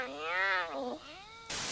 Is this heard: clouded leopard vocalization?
yes